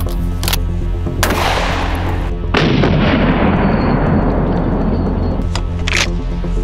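A shotgun fires Brenneke slugs at a padlock: several loud, close blasts with sharp attacks and long rumbling decays, the biggest one reverberating for several seconds, no speech.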